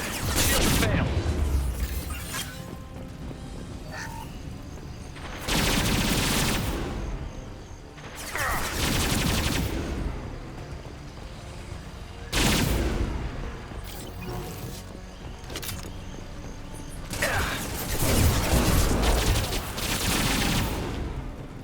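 Geth pulse rifle fire in Mass Effect 2 combat: repeated loud bursts of rapid energy-weapon shots with booms and whooshes, arriving in several distinct volleys with brief lulls between them.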